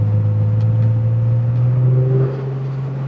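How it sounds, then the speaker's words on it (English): A collector car's exhaust drones steadily and close as the car accelerates, a deep, even note that eases off briefly near the end, with no voices. "and a great sound. Listen to that exhaust."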